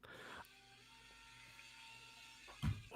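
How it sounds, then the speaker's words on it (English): A drill runs somewhere outside, a faint steady whine with a hum beneath it, muffled behind walls, and a short louder knock near the end. "damn somebody drilling outside"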